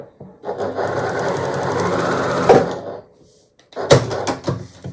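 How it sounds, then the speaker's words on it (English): A sewing machine stitches two quilt fabric pieces together for a scrappy Bargello quilt block, running in a steady fast whir for about two seconds, then pausing before a brief second burst of stitching. "We just need to sew where there is this line."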